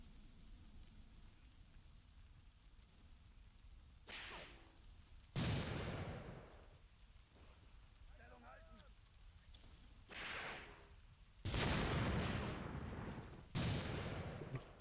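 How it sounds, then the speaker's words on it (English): White phosphorus artillery fire in Graviteam Tactics: Predators in the Mist 2, heard as several separate loud bursts with broad rushing noise, each fading out, set over a low steady battlefield rumble, with short quiet gaps between impacts. "now you're firing some white phosphorus"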